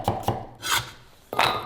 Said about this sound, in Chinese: 准备大蒜几颗切成小粒备用